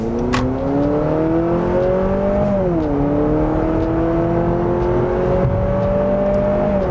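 A 2023 Honda CR-V Hybrid AWD Sport Touring crossover SUV accelerates hard, its engine droning loud and steady with rising pitch, a brief dip as it shifts, then climbing again, heard from inside the cabin.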